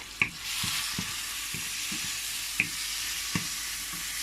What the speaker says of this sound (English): Give that a bit more of a stir.